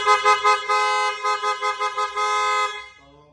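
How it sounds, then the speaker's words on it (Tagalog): A loud aftermarket car horn, Bosch Europa or PIAA, sounds in a series of short pulsing blasts and then one long sustained blare, close and alone. "So, Auto Style horn."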